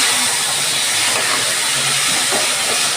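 Water hits a hot pan of spiced potatoes seasoned with coriander powder, turmeric and raw mustard oil, giving a loud, steady hiss of steam and sizzling that holds evenly with no talk.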